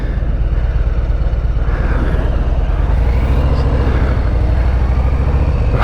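A brand-new 2020 Harley-Davidson Breakout motorcycle with a full tank and seven miles on it rumbles steadily up close on its first ride, a deep, pulsing engine drone holding without pause and with no talk.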